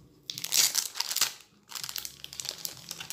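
A package holding a pair of small retro scissors is opened close up: bursts of crinkling, crushing plastic and paper, a short pause, then more rustling, with no talking.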